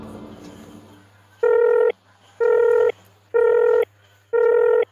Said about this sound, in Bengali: পায়েলের ফোনও তো লাগছে না।